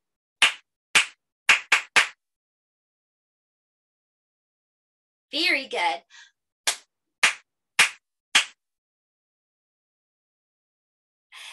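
Hands clap out a rhythm pattern in sharp, close, isolated claps: a group of five, then after a pause a short spoken bit and a faint chime, followed by three more claps and one at the very end.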